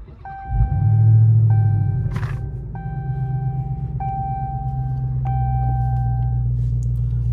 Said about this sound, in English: Now let's turn the vehicle on so we can see all the features of the new Redeye.